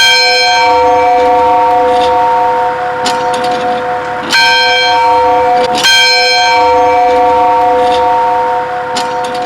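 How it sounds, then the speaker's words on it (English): A large bronze church bell, presented to a 1904 church building and now being taken down, rings loudly and close. Its bright, layered tones sustain throughout and are freshly struck at intervals. "the bell that's currently being removed today"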